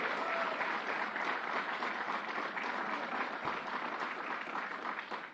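A steady wash of audience applause for civil rights leader Hazel Dukes fills a large room at a gun violence emergency announcement, even and moderately distant, lasting about five seconds.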